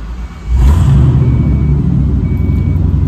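A warmed-up Foxbody Mustang engine catches with a brief rumble, then settles into a loud, deep, steady idle recorded up close.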